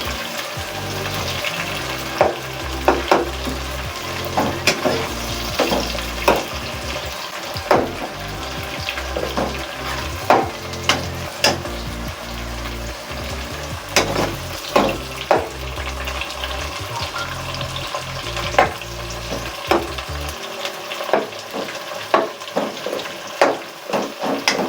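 Tomatoes cooking in a pan for a chicken dish, a steady wet sizzle broken by repeated clacks and scrapes from stirring, sometimes quick and sometimes spaced out, with the sizzle thinning near the end.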